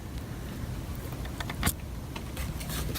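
A BMW E36 seat gear mechanism being turned by hand during a repair, giving a close, continuous mechanical whirr with a few brief clicks and rattles, fairly loud, with no talking.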